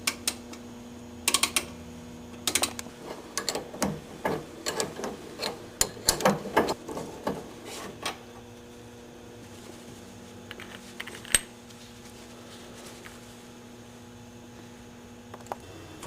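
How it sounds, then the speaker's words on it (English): Two 16 mm bolts are loosened on the front lower control arm of a Volkswagen, with scattered ratcheting clicks and metallic ticks. The clicks bunch together early, then thin out over a steady low hum, with no talk. "We're going to remove these two bolts. Both of these bolts are 16 millimeters."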